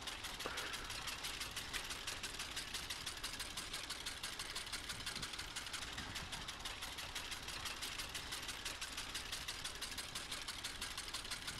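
A steady T-16 tractor engine drone in Farming Simulator 19 runs throughout at a constant pace, even and unchanging, fairly quiet, with no voices.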